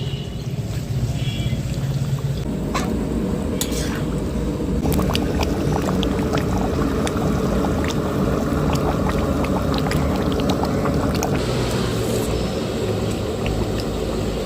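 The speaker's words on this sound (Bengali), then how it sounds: "মাংসটা কষানো হয়ে গেছে এবার আমি জল দিয়ে দেবো" Water poured into a pot of braised, browned meat on a home kitchen stove, a steady broadband pouring and bubbling wash that runs continuously and fairly loud throughout, with no talking.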